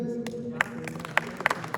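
Meeting attendees give a few scattered, hesitant handclaps, sparse and fairly close, over a low background murmur.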